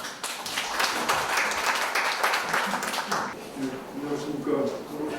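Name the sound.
audience applause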